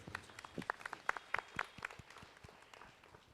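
A congregation at an annual church feast Mass claps in a short burst of scattered, uneven handclaps that fade out within a few seconds.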